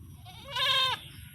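Goats bleat once in a drawn-out, wavering call from across the way on a farm, rising clearly above a low background rumble and then fading back into it.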